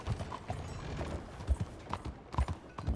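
Hooves of a horse clip-clopping in the video game Red Dead Redemption 2, an irregular run of soft thuds and knocks at close range over a low background, with no talking.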